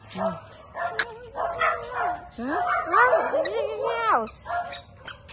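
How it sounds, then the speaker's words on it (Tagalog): A dog yips and whimpers in short bursts close by, while people talk over it. "Ayun na yung dog."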